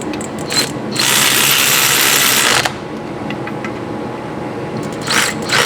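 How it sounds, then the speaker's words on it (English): A hand ratchet clicks rapidly and steadily for about two seconds while tightening the bottom bolt during a ball joint drop spindle install on a Porsche 356 Speedster VW kit car, with a brief click burst at the end. "Ratchet."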